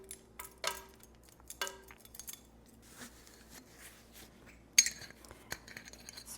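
An old glass mason jar holding vanilla beans clinks and rattles as it is handled and opened, with a few sharp close glassy taps and a brighter clink near the end over a quiet kitchen background.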